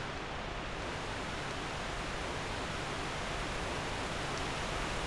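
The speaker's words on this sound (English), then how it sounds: "Sorry if the waterfall is coming through really loud, I do apologise." Loud, steady rushing waterfall in Dark Souls 2: Scholar of the First Sin, a continuous broadband roar filling the whole stretch without pause.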